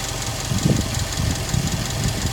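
A 2018 Subaru WRX STI engine idles close by with a steady low rumble and slightly uneven pulsing, the radiator fan running and the idle speed raised; no talking.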